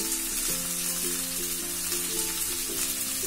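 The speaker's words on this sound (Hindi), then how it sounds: "अब मैं इसमें जो वेजिटेबल्स हैं वो सभी ऐड कर रहा हूँ वन बाय वन ये गए मशरूम ये जुकीनी" Mushrooms and zucchini go into a hot pan for a vegetable stir-fry, giving a steady, close, continuous sizzle with a faint tonal hum underneath and no talking.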